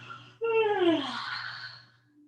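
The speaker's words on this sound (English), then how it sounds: "Open your mouth to yawn." A single drawn-out yawn during a yoga cool-down stretch, opening with a sharp voiced onset that slides downward in pitch and then trails off into a breathy exhale, close and fairly quiet.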